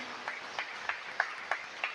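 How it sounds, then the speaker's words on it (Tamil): Congregation clapping at a Tamil Catholic Mass, with about six sharp, evenly spaced clap bursts roughly every third of a second, moderately loud over a soft room background. "ஜோரா ஒரு கைத்தட்டி ஒரு ஆண்டவருக்கு நன்றி சொல்லுவோமா?"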